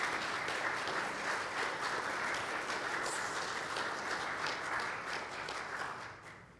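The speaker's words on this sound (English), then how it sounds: "Give yourselves a round of applause." A church congregation applauds in a dense, even patter of many hands that holds steady, then fades away at the end.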